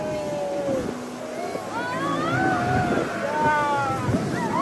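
A banana boat ride on the open sea off Bali, with steady wind and rushing water from the towing boat, while riders shout and talk excitedly over the noise.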